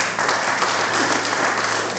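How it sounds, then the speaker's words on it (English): Audience clapping at a folk music society concert, a loud, even burst of applause from a small indoor crowd that stays dense and steady throughout, with no voices on top. "I clap for her all the time."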